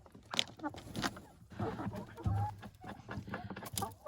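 Three- to four-week-old chicks of the Dominant breed clucking and peeping in a cage, with several close, overlapping soft calls and chirps.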